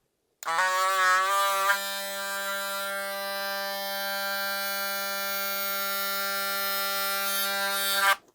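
A Caliber Disruptor ZR hair clipper motor starts with a brief surge on its rev-up feature, then holds a steady, loud, high electric buzz for several seconds before cutting off abruptly.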